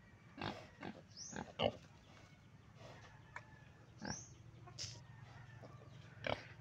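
Large pigs on a farm in the countryside grunt and squeal in short, irregular bursts, some close and some farther off, over a faint background with occasional bird calls.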